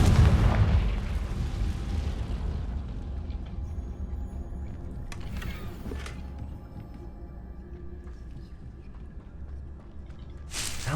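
Confringo spell explosions in a Harry Potter video game: a loud booming blast opens, decaying into a rumbling tail, with sharper bursts cracking later on.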